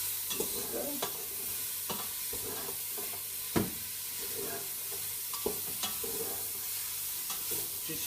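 Onions, garlic and peppers fry in a pan for a chicken curry, a steady close sizzle broken by repeated scrapes and knocks of a utensil stirring them.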